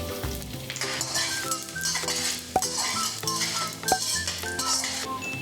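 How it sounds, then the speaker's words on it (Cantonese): Sliced garlic stir-fried in a little oil over medium heat, a bright continuous sizzle with the spatula scraping and two sharp metallic clinks against the pan, faint music underneath and no talk. "先爆香蒜片"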